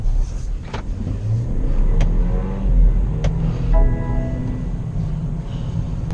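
A BMW X3 (F25) SUV in sport mode pulls away under acceleration, its engine rumbling steadily and building through a short, loud run with faint whining tones near the end, no talking.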